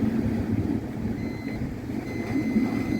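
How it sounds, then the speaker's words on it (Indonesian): A continuity tester emits a steady electronic beep while checking a cable on an anchor winch of the magnetic brake type, the thin tone sitting over a low background hum. "jika menunjukkan adanya koneksi, dia akan berbunyi beep ya, beep, seperti itu"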